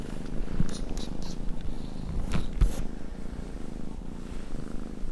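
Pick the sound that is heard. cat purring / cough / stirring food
cat purring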